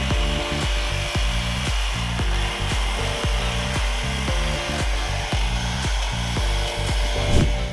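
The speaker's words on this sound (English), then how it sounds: "Marco's on the sawzall. We put the metal blade back on there, and he's just going to try to ease the top of this rusty old bolt off." Reciprocating saw fitted with a metal blade cutting through the top of a rusty old gate-hinge bolt, a loud, steady, rapid rhythmic rasping buzz close by.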